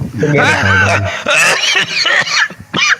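A smoker's few harsh, throaty coughs in quick bursts, close and loud, mixed with voiced, laugh-like sounds.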